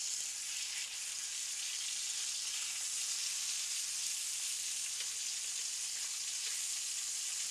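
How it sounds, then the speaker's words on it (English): Pork chops fry in a pan with a steady, bright, close sizzle that holds evenly throughout, turned gently with a fork and no talking. "I like to turn pork chops very carefully with a fork."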